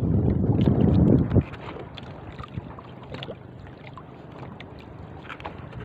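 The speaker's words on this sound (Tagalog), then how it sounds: "Lumalakas na naman ang hangin." Strong wind gusting at sea around a small boat, with a loud, close rush of wind buffeting the microphone for the first second or so, then easing to a steady, lower roar of air and water with occasional knocks.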